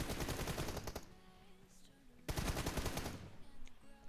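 Rapid automatic gunfire from a video game comes in two dense bursts, each about a second long, separated by a quieter stretch with faint tonal game sounds in the background.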